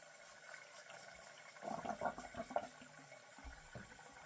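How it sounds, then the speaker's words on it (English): Shaving water is dumped out into a sink, giving a short, quiet splashing pour lasting about a second amid low room hush. "And let's dump this water."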